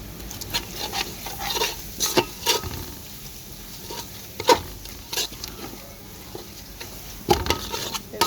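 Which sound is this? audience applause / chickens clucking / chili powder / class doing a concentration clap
chili powder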